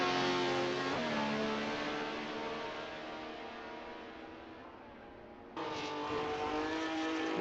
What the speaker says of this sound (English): now we're on board with Harley. Car number 11